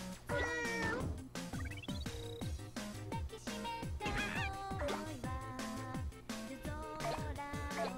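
Cartoonish cat meows in the video game Katamari Damacy, repeated loud meows stacked over upbeat game music and effects, with no talking.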